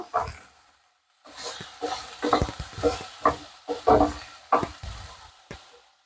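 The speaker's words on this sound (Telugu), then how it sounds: "జీలకర్ర తర్వాత అయితే బెండకాయలు అయితే వేసేస్తాను" Okra and cumin seeds fry in a pan, stirred with repeated scraping knocks at an uneven rhythm over a soft sizzle, close and moderately loud after a brief quiet start, with no talking.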